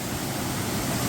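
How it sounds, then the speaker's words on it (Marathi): Rainwater pours from a village culvert during monsoon rain, a dense, steady roaring rush of water heard close and loud with no break. "वरून पूर्ण पाणी येतं खाली आणि या मोरीमधून खाली बाहेर पडतं पाणी"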